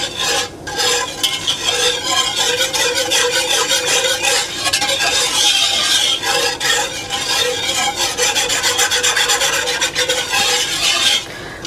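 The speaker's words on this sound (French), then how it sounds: "Tout en brassant pour que la fécule de maïs fasse sa job" Spoon stirring apple pie filling thickened with cornstarch in a pan on medium heat, a continuous loud scraping and rubbing with a soft sizzle, steady throughout with no talk.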